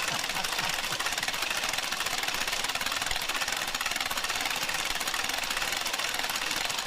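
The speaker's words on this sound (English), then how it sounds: "this year we supersized it as the largest grogger in the world that's operated by one man" A giant one-person hand-cranked gragger noisemaker spins up close, making a loud, continuous ratcheting clatter that churns without pause, dense and rattling.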